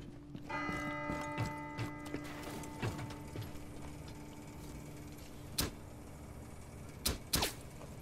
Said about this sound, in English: The fuck is this bell?